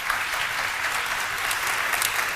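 Sustained studio audience applause during a Pakistani Iftaar cooking show, a dense, steady wash of clapping throughout with no pauses and no talking over it.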